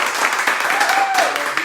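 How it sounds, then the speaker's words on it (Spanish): Brief applause for Osney's birthday, a short wash of clapping from a gathered congregation with a voice briefly heard over it. "Un aplauso ahí para Osney."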